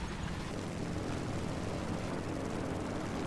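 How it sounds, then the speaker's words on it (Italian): A propeller airplane engine drones steadily in the War Thunder combat game, a loud continuous roar with no break. "Ragazzi, passiamo agli aerei."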